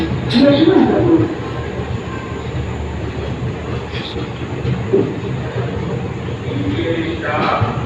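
Passenger train of the Rapti Sagar service rolling into Itarsi Junction station, with a continuous loud rumble and rattle of carriages and a few squeaks, heard from on board with people talking nearby.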